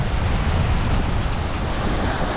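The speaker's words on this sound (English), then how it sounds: "Oh man, it's raining." Heavy rain pours onto a street in Macau during a storm, making a loud, steady, unbroken rushing wash.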